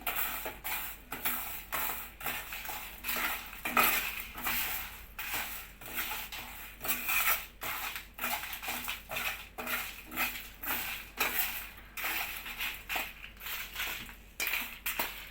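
Whole spices for sambar, with a pinch of asafoetida, are stirred and tossed in a pan, giving a rapid run of dry scraping and rattling strokes in a steady rhythm, close and fairly crisp, with no voices.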